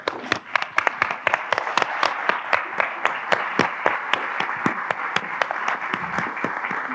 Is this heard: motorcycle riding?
no